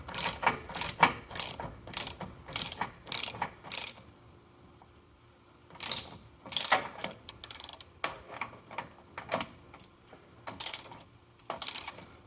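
A socket ratchet tightens a 3/4-inch bolt and nut on a Stoltz bow roller of a Shorelander boat trailer, clicking in quick close bursts with short pauses, alone without talk.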